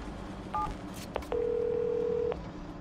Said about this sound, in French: Le vrai auditeur va recevoir un coup de fil de Jimmy Siska.